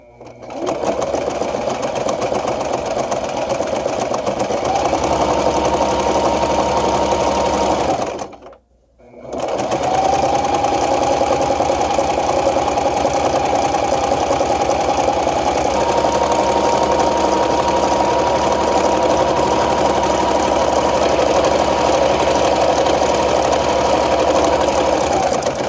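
A sewing machine stitches fabric panels with its presser foot along the thread line, a loud steady mechanical whirring hum that stops briefly near the middle and then resumes for a long continuous run.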